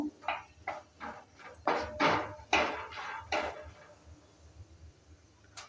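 Bay leaf and whole cumin seeds fry in a pan for a Bengali lentil dish, heard as a series of sharp metallic scrapes and clinks from stirring, close and moderately loud, then fading to a quiet background.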